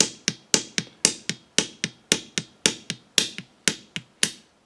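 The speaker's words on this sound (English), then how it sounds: "You try to put that flat side on the rock or the anvil, then you hit on a ridge till it cracks." A thin-shelled hickory nut sits on a rock or anvil and is struck on its ridge, about fifteen to twenty sharp, close knocks in a quick, fairly even rhythm, at times in pairs, with no voices.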